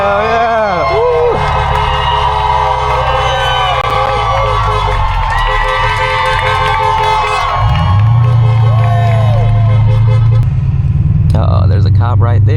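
A crowd at a large street protest cheering and shouting, heard from a passing Mercedes S-Class, with horn toots and a loud nearby voice over the noise.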